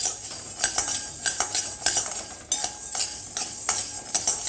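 Chana dal and urad dal dry-roasting in a pan for chutney, with repeated scraping and clinking of a metal spoon against the pan in an irregular rhythm and a faint crackle underneath.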